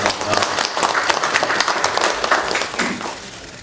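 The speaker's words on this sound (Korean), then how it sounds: "박수 받으시기" Applause breaks out at a joint Democratic Party emergency committee and campaign committee meeting as a former university president is introduced, a dense roomful of clapping that holds steady and then thins slightly, with some talk mixed in.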